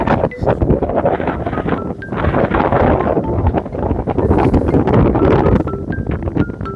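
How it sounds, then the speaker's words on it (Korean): Strong wind blows by a freezing sea during a heavy snow and cold-wave warning, roaring loudly and constantly across the microphone in rushing gusts, with faint bird calls in the background. "바람도 많이 분다"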